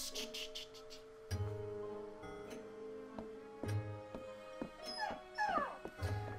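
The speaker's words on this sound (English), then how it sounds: "My dog is super whining right now." A dog whines and whimpers in repeated high, thin cries nearby, broken up over several seconds against a low background hum and a few knocks and thumps, with no talk.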